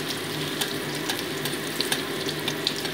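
Dried red chilies frying in hot mustard oil in a kadai give off a steady, close hiss dotted with small sharp crackles, with no voices.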